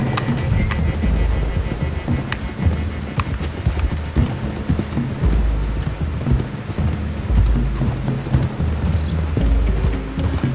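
Horses gallop in Red Dead Redemption 2, a dense rolling clip-clop of hooves over dirt with rumbling game ambience, loud and continuous throughout.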